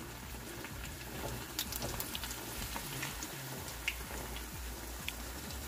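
Chili bajji fritters sizzling in hot oil, a steady close crackle and bubbling with small pops scattered throughout, no voices over it.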